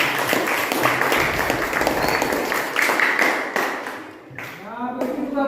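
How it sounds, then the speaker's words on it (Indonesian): Classroom applause from a group of students, a dense burst of clapping that fades after about four seconds, with a teacher's voice and chatter mixed in near the end. "tepuk tangan dulu"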